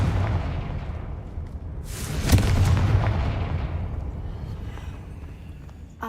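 Confringo and Bombarda spell blasts in Hogwarts Legacy: deep booming impacts with a rumbling low roar, one sharp burst standing out mid-way before the reverberation slowly fades.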